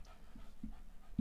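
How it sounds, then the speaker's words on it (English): A dog panting indoors in a home office: soft, rapid breaths in a loose rhythm, close but faint, with a slight whine near the end and no talk. "My dog comes into the office."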